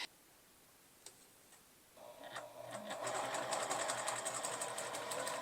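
A sewing machine back stitches a scrunchie made from a scarf: a couple of faint clicks, then the motor starts and runs in a fast steady ticking rhythm, close and moderately loud.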